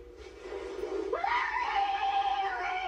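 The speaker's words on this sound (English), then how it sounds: "What kind of scream is that?" A child's high-pitched scream rises sharply about a second in and holds loud and shrill to the end, with a faint giggly voice before it.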